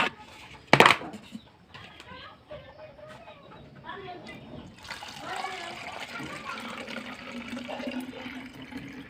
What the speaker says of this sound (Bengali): তো আমি এখান থেকে পানিগুলো ভরে নিব